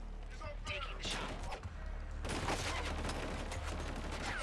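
In Killzone: Shadow Fall, shooting bursts out in loud, dense volleys of rapid gunfire against constant low rumble and mechanical game noise, with a voice talking over it.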